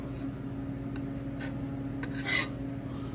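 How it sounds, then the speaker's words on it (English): A putty knife scrapes and spreads wood filler across imperfections in box-store cabinetry, in soft close strokes over a steady low hum, with no talking. "Now I just take my putty knife."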